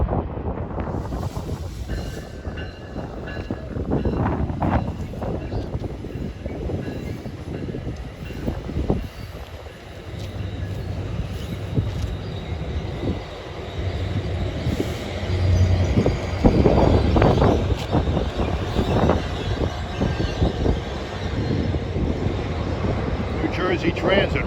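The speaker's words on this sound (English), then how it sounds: "NS train 22V en route from Harrisburg to Elizabethport" Norfolk Southern freight train 22V, bound from Harrisburg to Elizabethport, New Jersey, rumbles past close by with a steady, loud roar of rolling railcars and wind buffeting the microphone throughout.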